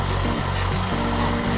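A stand mixer on its stir setting beats butter with brown and white sugar, producing a loud, close, steady motor whir with regular rhythmic pulses as the beater turns through the mixture.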